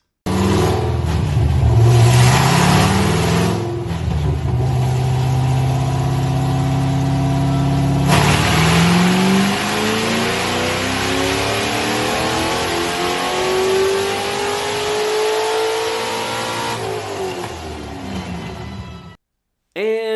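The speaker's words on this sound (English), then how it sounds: "once the headers were installed, it went on the dyno to be tuned" A Chevrolet C6 Corvette Z06 fitted with new headers roars on a dyno, its loud engine climbing through repeated rising revs and gear pulls before cutting off abruptly near the end.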